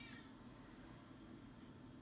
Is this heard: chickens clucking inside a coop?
no